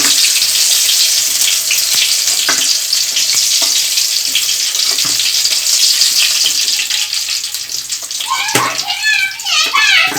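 Stuffed pointed gourd fritters frying in oil over medium-low heat, a steady close sizzle running throughout, with a brief clatter near the end.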